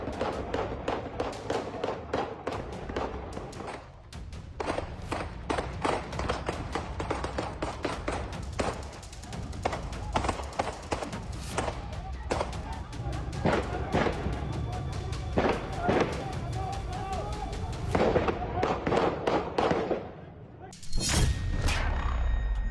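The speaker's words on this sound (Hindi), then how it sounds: "पीओके में दनादन गोलियां चल रही हैं।" Rapid gunfire during unrest in Pakistan-administered Kashmir rattles in dense, fast volleys of sharp cracks that run almost continuously for over twenty seconds, briefly pausing near the end before a final loud burst.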